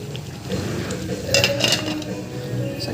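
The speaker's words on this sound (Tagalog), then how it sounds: "So, ito pwede na nating takpan para maluto." Metal lid set onto a pot of fish simmering in coconut milk with fern greens, giving a few close clinks and clatters of cookware over low kitchen noise.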